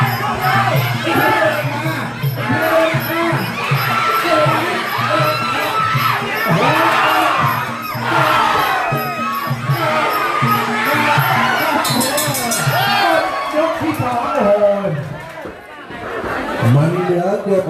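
Excited crowd at a Muay Thai bout in a temple ground yelling and cheering, many overlapping shouts and whoops that swell and dip in waves, loud and close, with chatter mixed through.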